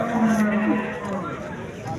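A cow at a cattle market in Sirdaryo district bellows a short, resonant moo close by, over a murmur of market bustle.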